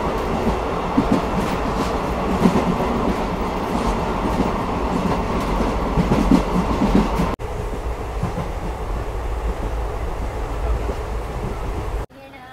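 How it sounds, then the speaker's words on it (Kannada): A Shivamogga Town to Mysuru unreserved passenger train rumbles along at speed with steady wheel clatter, loud and continuous. The sound drops abruptly midway and stays quieter inside the coach, with faint talk. "ಮೈಸೂರು ಪ್ಯಾಸೆಂಜರ್ ಟ್ರೈನ್ ತಲುಪಿದೆ"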